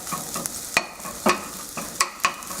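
Egg fried rice being stirred in a hot pan over medium-low heat, with a soft sizzle and several distinct scraping strokes of the utensil against the pan, close and clear with no talking.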